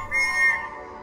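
A whistle blown at a clown in the video game Circus Electrique, one short bright shrill blast lasting under a second, clear and alone.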